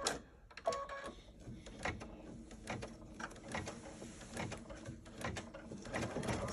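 An embroidery machine stitches a pie tack-down line on a quilted pillow block with leather, producing rapid continuous mechanical needle clatter with rhythmic ticks, fairly quiet and steady, no talking.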